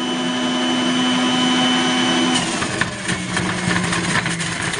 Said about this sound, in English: Always hold on to your juicer because it's got a strong motor.